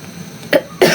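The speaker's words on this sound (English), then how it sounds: "In this house we are coughing, all of us" Two sharp, loud coughs from a person in a home kitchen while cooking crepes, the first brief and the second longer, following a quiet lull.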